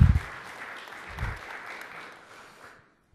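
Audience applause at a talk about ASP.NET 4.5, HTML5, CSS3 and JavaScript, a brief scattered clapping from a modest crowd that swells slightly, then fades out into silence after about two and a half seconds.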